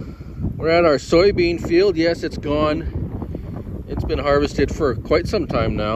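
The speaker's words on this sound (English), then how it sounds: "sorry about the wind again. Oh, very windy." Strong wind buffeting a microphone outdoors at a harvested soybean field in Manitoba, low rumbling gusts running under someone speaking throughout.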